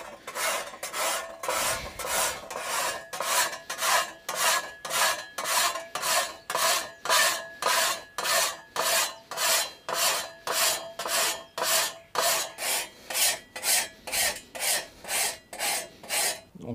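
A metal file rasping along a scythe blade in steady back-and-forth strokes, about two per second, each a bright gritty scrape, close and loud with no talk.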